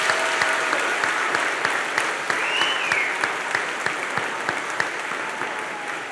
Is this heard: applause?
yes